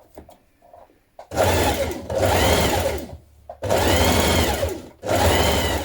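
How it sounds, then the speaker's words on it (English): Sewing machine stitching an elastic casing in fabric 6mm from the raw edge, three loud bursts of rapid whirring stitching separated by brief pauses, close up. "Now to create a casing, stitch another line of stitching 6mm away from the raw edge"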